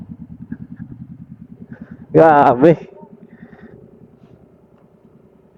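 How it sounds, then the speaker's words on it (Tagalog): A motorcycle engine rumbles in a steady, pulsing rhythm close by on a ride in Dingalan, Aurora, with a person briefly speaking over it partway through. "Durug-durug talaga yung motor."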